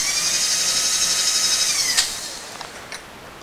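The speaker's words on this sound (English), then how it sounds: "we're going to do a drill finish with a nice, pretty nice drill anyway" A fairly good imported power drill whines steadily for about two seconds as it puts a drill finish on a metal bar, then winds down, followed by a few faint clicks.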